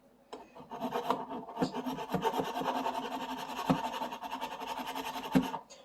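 A guitar nut being filed down during a neck refurbishment: close, steady back-and-forth rasping strokes with a gritty texture and occasional sharper scrapes.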